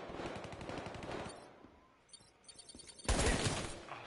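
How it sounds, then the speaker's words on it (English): Rapid automatic gunfire in the Call of Duty Black Ops 3 video game, a loud burst early on, a quieter gap, then another sharp, heavy volley near the end, with no talking. "Someone's shooting."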